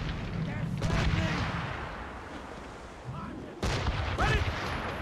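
Heavy naval cannon fire in an Assassin's Creed Rogue sea battle: two loud, close booming volleys roll out about three seconds apart over continuous battle noise, with voices shouting orders in between.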